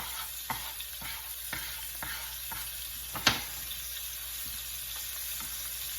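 Salted cod fries in a pan for a Sicilian-style stew, giving a steady low sizzle with occasional soft stirring scrapes and one sharper clink, with no voices.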